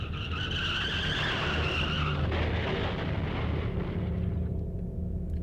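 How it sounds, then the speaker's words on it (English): A long tire skid screeches over a rumbling engine, building into a heavy crashing impact that fades into a low noisy tail, from a car accident in the horror video game Corpse Party: Blood Drive. "Then there was an oddly familiar sound, another car accident again"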